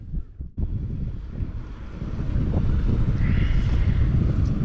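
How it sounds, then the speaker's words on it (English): Wind gusting across a fishing pier at night, a steady broadband rush that builds after a brief quiet start and stays loud and buffeting throughout, with no talk. "The wind is still up."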